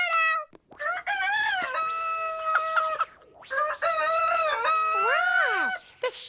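A rooster-like crowing from a lamp shade on a children's television show, several long wavering calls with rising and falling pitch, close and loud, with no talking.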